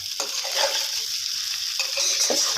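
Carrots and sliced onion stir-fried in a hot pan for Chinese sausage fried rice, giving a steady close sizzle with scraping and stirring strokes throughout.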